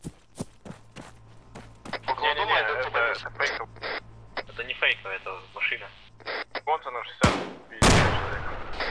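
Gunfire in the video game Arma 3, with a quick series of sharp shots near the start, then radio chatter and talk, and two loud blasts near the end.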